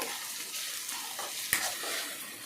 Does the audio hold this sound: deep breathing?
no